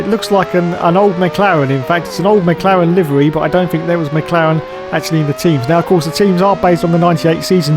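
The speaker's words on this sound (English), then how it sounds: "you may have noticed something else about this game, and that's the sound of the engines" Synthesized Formula 1 engine whine from a 1998-season F1 racing game at Monaco, loud and buzzy, its pitch climbing and dropping repeatedly with gear changes while someone narrates over it.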